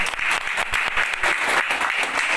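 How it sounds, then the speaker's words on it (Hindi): Audience applause for seniors at a crowded gathering, steady dense clapping from many hands filling the whole moment without a break. "जबरदस्त तालियां मेरे सभी सीनियर्स के लिए।"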